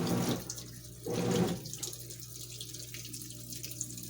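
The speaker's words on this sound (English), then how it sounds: "having this recirculation pump basically coat them with soapy water as well also helps" A washing machine's recirculation pump sprays soapy water over clothes on a heavy-duty cycle. Two strong rushing bursts of water are heard, then a lighter, steady trickle and splash.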